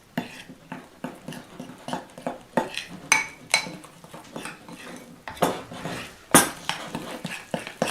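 Gluten-free microwave bread dough is stirred in a dish, giving repeated scraping clinks and knocks of a utensil against the dish in an uneven rhythm, close and moderately quiet.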